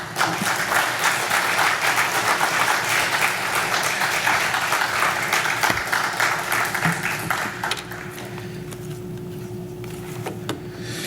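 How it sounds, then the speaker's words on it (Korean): A church congregation applauds loudly to welcome a missionary to the front, a dense, sustained wash of clapping from many hands that stays strong for about eight seconds before thinning into a softer, lingering patter. "여러분 큰 박수로 환영해 주시기 바랍니다."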